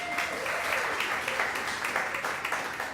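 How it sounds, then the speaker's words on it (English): Audience applause at a Halloween show fills the room as a steady, dense wash of many hands clapping, continuous and fairly loud throughout with no break. "give him a round of applause"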